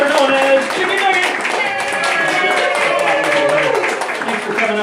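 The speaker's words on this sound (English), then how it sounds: "How about another big round of applause for" Clapping from a small audience at a birthday party magic show, steady and close, mixed with overlapping children's voices and chatter throughout.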